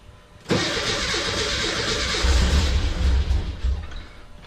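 A buggy engine cranks over and over on a cold morning with a steady whirring churn, close and loud, with low rumbling pulses but no catch.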